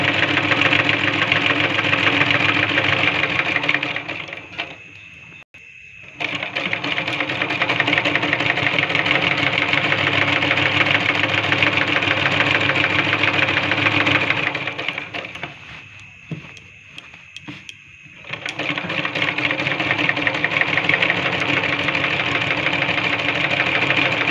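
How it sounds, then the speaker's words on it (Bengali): A sewing machine runs steadily, stitching down the middle of a lungi, its mechanical whir loud and continuous, pausing briefly twice before resuming at the same pace. "মাঝ বরাবর এখন আমি সেলাই করে নেব।"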